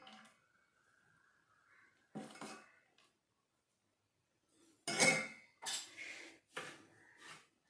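A spoon scrapes and clinks against a metal vessel while jaggery syrup is stirred into a rava laddu mixture, in a few quiet, separate bursts with silent gaps between them.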